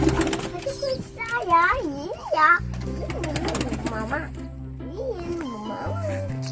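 Pigeons coo softly while being fed as adults and someone talk loudly nearby; the cooing sits under the voices.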